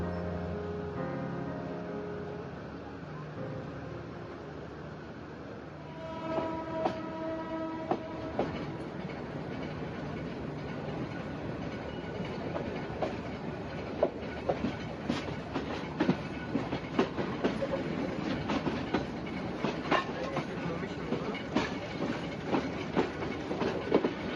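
The Agnibina Express horn sounds as it departs Dhaka, then the train gets under way, its wheels clattering over rail joints in a steady, quickening rhythm with a continuous rumble.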